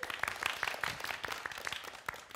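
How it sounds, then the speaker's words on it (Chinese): A theatre audience at a student stage play gives scattered, fairly faint applause to welcome a couple onto the stage, with individual claps audible in an irregular rhythm. "那就让我们用热烈的掌声欢迎他们"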